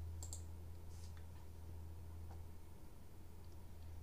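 A computer mouse clicks on a website link, giving a few faint, sharp clicks spread over a quiet background hum.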